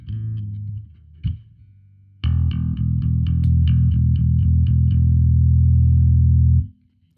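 Bass guitar through a distortion pedal: a short gritty note, a pause, then a loud sustained distorted chord that rings with a thick buzzing tone for several seconds before cutting off abruptly.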